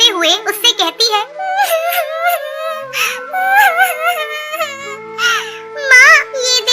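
A cartoon bird character named Tuntuni, a young female bird, cries in a high, wavering, sobbing voice with rising and falling whimpers, loud and close, continuing throughout with short breaks between sobs.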